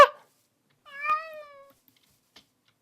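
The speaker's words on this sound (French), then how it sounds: "Oh, c'est un petit chat! C'est un petit chat!" A small cat in a Minecraft-style video game gives one clear, falling meow after a brief sharp sound at the start, close and alone against silence.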